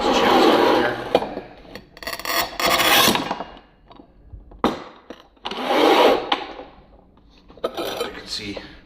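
A Seeutek manual tile cutter scores across tile in two long, loud rasping strokes, with sharp snaps and handling knocks between them.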